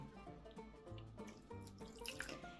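Ice water pours and splashes steadily into minced meat dumpling filling, with wet sloshing as it falls into the soft mixture, up close and without any talk.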